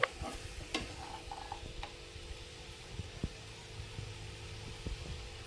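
Bottle gourd and shrimp get stirred in a frying pan, with soft scraping strokes, a few sharper clinks and a faint sizzle underneath, heard close up at low volume and without speech.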